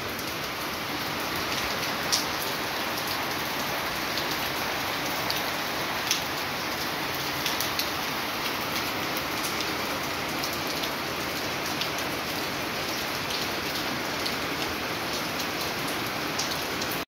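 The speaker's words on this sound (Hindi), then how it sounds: "पूरा बारिश दे रहा है, देखो देखो पूरा मज़ा लग गया इस बारिश में" Steady rain falling and pattering on surfaces, a dense continuous hiss with scattered louder drops throughout and no voices.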